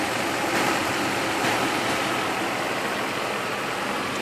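A 1994 Mercedes E420 engine runs at a steady idle, a dense, even rumble and whoosh heard close up, with no voices.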